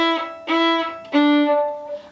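A violin played with rough, uneven beginner bowing gives three separate bowed strokes. Each one starts scratchy and wavers in tone, and the notes are loud and close with no other sound behind them.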